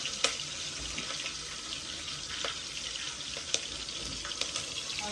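Curry leaves hit hot oil that already holds cumin, for khichdi cooked in a home kitchen, giving a steady close sizzle and crackle with a few sharp pops.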